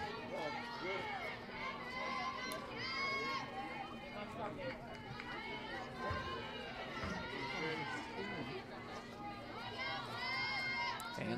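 The crowd at a college softball game between Miami RedHawks and Buffalo Bulls on a sunny Easter weekend afternoon makes a steady, distant murmur of chatter and voices throughout. An announcer talks over it.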